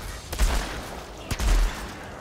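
Sniper rifle shots fired at a mini boss in the Outriders video game: two sharp, heavy reports about a second apart, each with a booming low tail, over a faint steady game-world background.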